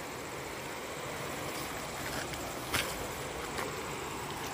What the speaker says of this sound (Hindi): तो ये देखिए कूल में पानी आ रहा है